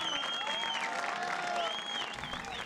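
Applause and cheering from a crowd greeting a Tuna Imperial student estudiantina troupe of FES UNAM at a televised event, steady dense clapping throughout with occasional whistles, no speech.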